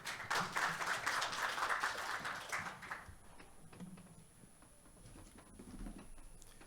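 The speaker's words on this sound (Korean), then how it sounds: "큰 박수 부탁드립니다" A conference audience at a KT Cloud Summit 2023 session gives a short round of clapping, a brisk patter for a few seconds that quickly thins out and fades into quiet room noise.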